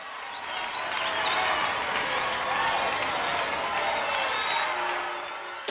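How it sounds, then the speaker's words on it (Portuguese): A large crowd cheers and applauds steadily for several seconds, a dense, even wash of clapping and shouting with no other sounds. "a lebre foi acordada pelo som de uma grande torcida e aplausos"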